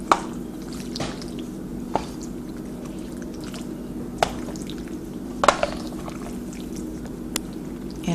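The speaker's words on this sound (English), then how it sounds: "So now I'm just mixing the sauce" Tomato sauce being mixed into cooked ziti noodles gives soft, wet squishing with a few sharp clicks of a utensil against the dish, quiet and close with no talking.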